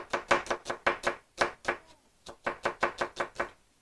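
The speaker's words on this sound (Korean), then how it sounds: "제가 칼질을 좀 하죠." A kitchen knife chops squid and onion on a cutting board in quick, even strokes, with a short pause midway before the steady rhythm picks up again. It is close and crisp, with no talk.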